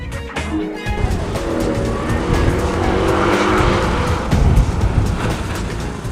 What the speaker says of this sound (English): We all get into Porsche 718 Cayman S's and head down through the slalom course